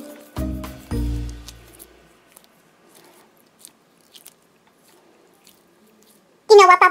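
A squishy piggy splat ball toy is slapped onto a table twice in quick succession, two soft, heavy squelching thuds near the start, followed by quiet with faint rustles and a brief crinkly burst at the end.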